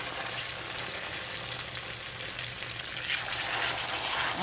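Salmon laid skin-down in a hot cast iron skillet with seasoning gives a continuous, dense sizzle that holds steady and close for the whole stretch, with no voices.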